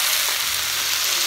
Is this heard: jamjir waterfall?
no